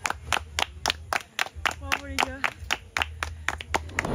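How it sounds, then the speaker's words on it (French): A few people clap in sharp, widely spaced bursts, each clap distinct and close; a voice rises briefly in the middle, and low background noise runs underneath. "est-ce qu'on peut s'applaudir?"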